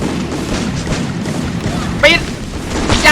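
Shots and booms in the Free Fire battle game, with a steady rumble of combat and a couple of sharper bursts toward the end, while a voice talks over the action.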